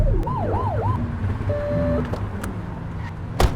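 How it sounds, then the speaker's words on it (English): Short wailing police car siren blips in The Precinct police video game, a couple of rising and falling whoops followed by a brief steady tone over a rumbling car engine. "Get on that tail and blip the siren."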